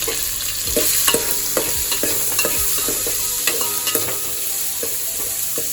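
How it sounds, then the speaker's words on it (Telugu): Onions and green chillies frying in a pan for chicken pulao make a loud, continuous close sizzle, broken by a steady run of spoon clicks and scraping as they are stirred, with no talking. "ఆనియన్ ఇది బాగా ఫ్రై అవ్వాలన్నమాట"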